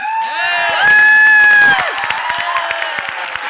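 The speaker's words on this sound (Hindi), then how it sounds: "एक भारतीय वाली जोरदार तालियां हो जाए।" An audience at a business launch event in a five-star Delhi hotel bursts into loud cheering and whooping, with shouts and dense applause that swell and hold for about a second before settling into a steady crowd roar.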